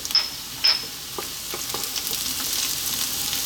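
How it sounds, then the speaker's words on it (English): A tablespoon of chopped garlic drops into a hot pan and bursts into a loud, close sizzle, with a couple of sharp utensil clinks at the start and steady frying crackle building after. "So at this point we're now going to drop in that garlic."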